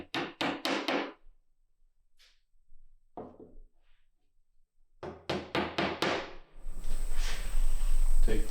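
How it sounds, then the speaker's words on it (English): Blue plastic wall anchors tapped into drilled 3/16 inch holes during a sign installation: close, sharp hammer taps in quick clusters of four or five, separated by pauses, with faint rushing noise at the end. "Take your blue mollies, your anchors, come in there, tap them in."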